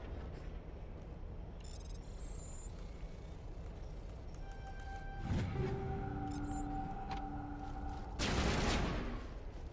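Gunfire in the Mass Effect video game, with a bright burst of shots around the middle and another sharp volley near the end over steady background noise and game tones.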